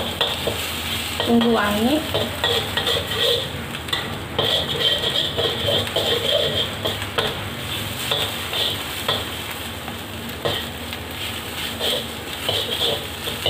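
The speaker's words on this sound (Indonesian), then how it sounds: "masukkan telurnya, orak arik, banyak orak arik" Eggs scrambled and stir-fried in a pan, a steady sizzle with the scrape of stirring running throughout; a voice speaks briefly near the start.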